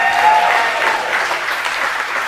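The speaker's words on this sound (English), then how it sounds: "let's give them a big round of applause as well" Wedding guests at a reception clapping together, a dense, loud, sustained wash of applause from a crowd close by.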